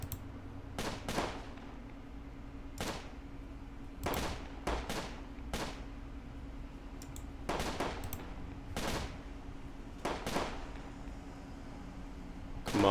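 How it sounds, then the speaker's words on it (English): Scattered gunshots in the World War II strategy game Close Combat, sharp single cracks and short clusters at irregular intervals over a low steady rumble, some close and loud, others fainter. "We are returning fire, but we need to return effective fire right now."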